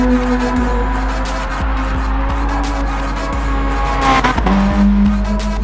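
An all-wheel-drive car drifts with a reverse entry in the GT Sport racing game, its engine droning loud and continuous with rising and falling revs, broken by tire squeal and brief shifts.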